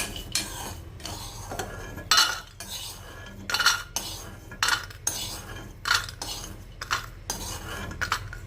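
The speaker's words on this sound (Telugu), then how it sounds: "వీటిని డ్రై రోస్ట్ చేసుకుంటున్నాను" Pistachios dry roasting in a pan are stirred with a metal utensil, giving repeated scraping and clinking strokes in a steady rhythm, close and fairly quiet.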